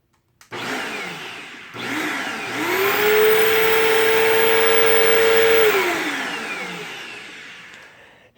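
A Bissell CleanView II Deluxe upright vacuum cleaner, a 12 amp model with a headlight, switches on and its motor spins up to a loud, steady whine. It holds there for a few seconds, then slowly winds down.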